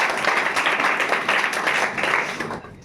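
An audience at a school memorial gathering claps for a student singer, a dense burst of applause that holds steady and then tapers off near the end.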